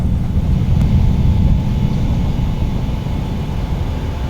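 An airliner rolling down the runway and rotating for takeoff from Orlando in Microsoft Flight Simulator 2020, a loud, steady low engine roar with no talk.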